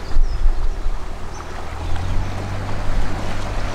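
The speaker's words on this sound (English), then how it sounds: "and lots of boats coming through this junction" Boats passing through a canal junction by a swing bridge, a steady low engine rumble with faint wind and water noise, moderately loud and continuous with no talking.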